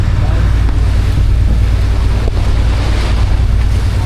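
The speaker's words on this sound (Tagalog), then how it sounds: "Oo, dagat oh." Sea waves at a Boracay Island beach make a continuous loud surf roar, heavily buffeted by wind noise on the microphone for the whole stretch.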